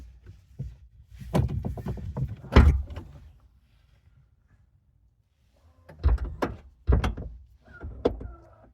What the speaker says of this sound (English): There we go, there's a soft close.